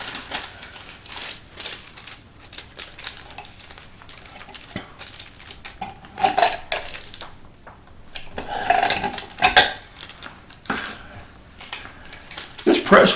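A handheld burger press working raw beef patties in a home kitchen, producing clattering taps and squishing presses that come in uneven bursts, louder toward the end, with soft background handling.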